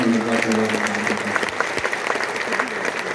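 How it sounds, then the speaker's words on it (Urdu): Audience applause at a mushaira poetry gathering in Dubai: a dense, steady wash of many hands clapping, loud and sustained, with crowd voices mixed in. "ایسے فرحان واسطی صاحب کے لیے میرے کہنے پہ بھی ایک بار زوردار تالی بجائیں"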